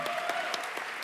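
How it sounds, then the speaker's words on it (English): Brief burst of audience applause at a talk, scattered claps over a steady wash of clapping, heard alone for about a second. "So give her a round of applause."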